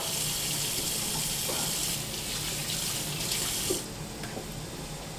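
Tap water runs steadily into a kitchen sink for rinsing while a ragu for lasagne cooks, a continuous close hiss of flowing water that thins slightly near the end.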